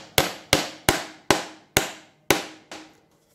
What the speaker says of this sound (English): you just tap it into the hole